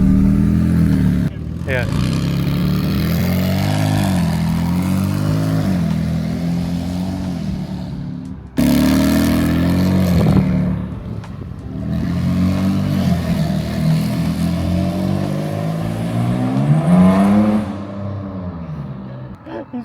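An 800hp single-turbo Kia Stinger revs hard on a dyno, the engine climbing and falling in repeated loud pulls with a deep, rough, tractor-like drone. People talk briefly over it.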